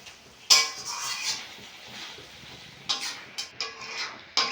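A spatula scrapes and clinks against a pan while banana flower curry with prawns is stirred, with a sharp scrape at the start and a few short metallic knocks near the end over a soft sizzle.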